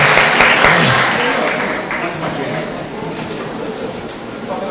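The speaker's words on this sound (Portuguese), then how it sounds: "Vamos aplaudir aqui." An audience applauding at a writing class in a large hall, loud clapping that is strongest at first and then tapers gradually, with voices mixed in.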